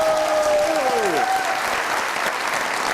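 A studio audience at an Eid special television broadcast applauds a guest, with steady, loud clapping throughout and a brief descending musical sting at the start.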